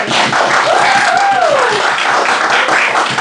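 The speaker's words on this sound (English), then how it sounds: "Big round of applause." Audience applause welcoming spoken-word performer Steve Levin to the stage at a Q.E.D. show: dense, steady clapping throughout, with a rising and falling whoop or whistle in the middle.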